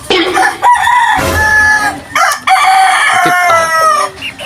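Chickens and roosters at close range crow loudly in long strained calls broken by short gaps, with clucking mixed in; one brief spoken word is heard.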